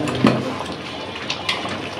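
Water pours steadily into a pot of beef curry with potatoes, a close, continuous rushing splash lasting the whole moment with slight surges and no voices.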